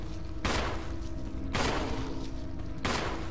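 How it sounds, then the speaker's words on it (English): Gunshots in Resident Evil ring out three times at even intervals, each a loud, sharp blast over a steady background hum. "Yeah, I shot the roof and that worked."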